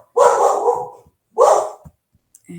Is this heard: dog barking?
yes